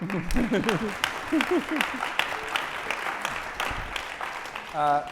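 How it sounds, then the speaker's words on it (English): Applause from an audience at a fireside chat at a Stanford summit breaks out, brief scattered clapping mixed with voices and cheers, fading out as someone begins to speak. "So a round of applause for Reid's efforts for humanity in this current transition in our government"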